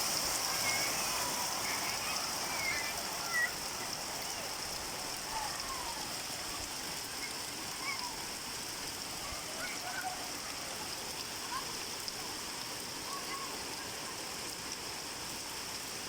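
Steady rain pours down outdoors beside a pond in Birbhum district, a constant hiss of drops on surfaces with no breaks, gently louder at the start.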